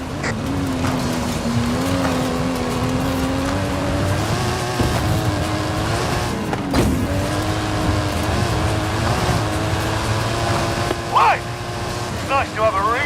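A stunt vehicle, a Mike Steel Special with custom engine and suspension, revs hard uphill in Forza Horizon 5: a steady, loud engine drone that climbs slowly in pitch, with speech over it.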